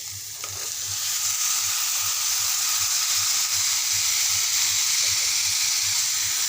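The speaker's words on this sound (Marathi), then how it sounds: "आता मी भाज्या बॉईल करून घेतलेल्या आहे त्या सोडणार आहे" Boiled mixed vegetables drop into a hot pan for veg Kolhapuri and sauté with a loud, steady sizzle that swells after the first second and holds, a few scrapes and stirs mixed in.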